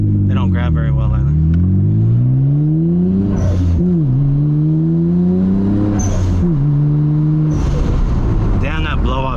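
A Nissan R32 GTR with a stock HKS blow-off valve revs repeatedly, its engine tone rising and falling in loud swells with sharp hissing bursts from the valve between revs, close up as people talk over it.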